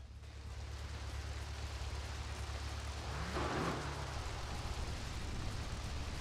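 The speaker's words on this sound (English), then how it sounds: "going to be interesting with the rain" Steady rain in the video game GTA III, a constant hiss of falling water heard throughout with a low hum beneath and a brief swell midway.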